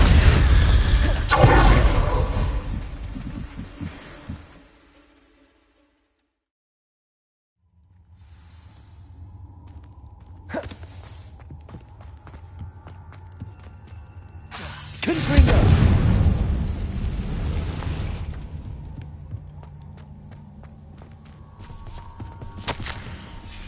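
Fiery spell blasts from the Confringo curse in Hogwarts Legacy, two loud booming bursts separated by a few seconds of silence and quieter rumbling, mechanical game effects in between.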